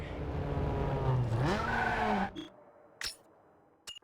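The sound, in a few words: car drifting with tire squeal in Need for Speed Underground 2, video game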